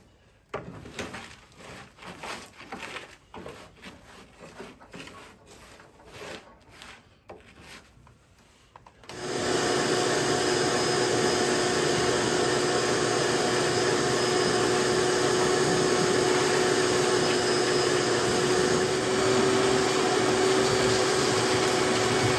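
A vacuum cleaner switches on partway through and runs loud and steady while cleaning out the interior of a Studebaker T-24 Weasel, with quieter rustling and handling sounds before it starts.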